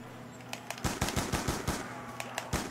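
Rapid bursts of automatic gunfire from a zombies video game, a dozen or so sharp shots in quick irregular rhythm over a low steady hum, loud and close.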